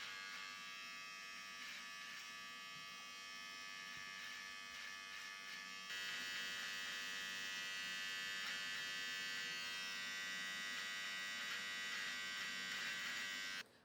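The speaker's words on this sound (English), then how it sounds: "It's important to use the edge of the trimmer to create the U shape below the mouth." A Wahl beard trimmer hums steadily and close up while sculpting a soul patch below the mouth, a constant electric buzz that gets a little louder partway through and cuts off at the end.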